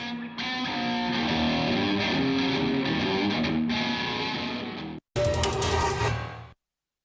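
Electric guitar played through an amplifier with distortion and reverb, sustained chords ringing loud for several seconds, a brief cut, then a bright burst of strummed notes before stopping abruptly.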